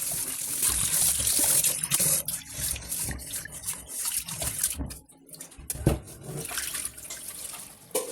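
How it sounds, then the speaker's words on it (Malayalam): Rice is washed in water in a vessel, with running and sloshing water, splashes and trickles that rise and fall over several seconds, heard close up. "ഞാൻ അരി കഴുകാനായിട്ട് എടുക്കുകയാണ്"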